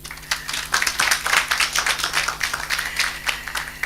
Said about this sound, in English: I think we can give a better round of applause.